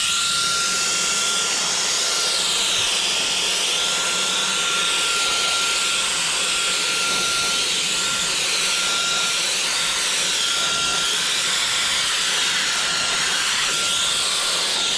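A Meco Eleverde battery-powered air duster blowing at full power, a steady, loud, high-pitched whine and rush of air that holds unbroken throughout.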